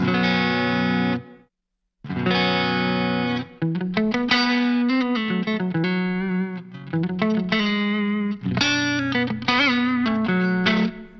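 Electric guitar through a Line 6 Helix room reverb plays sustained, effect-laden chords and notes with a wide, roomy reverb wash, pausing briefly before continuing loud and full.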